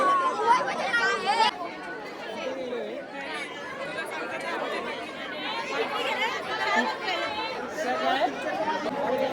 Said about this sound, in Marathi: फुल गर्दी झालेली इथं.